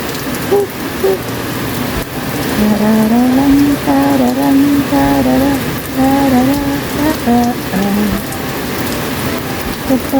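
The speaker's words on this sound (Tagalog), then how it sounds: "Pumapatak na naman ng ulan sa bubong ng bahay." Heavy rain falls steadily on a house roof, a dense continuous patter that fills the whole clip, while a nearby voice hums a wordless tune over it.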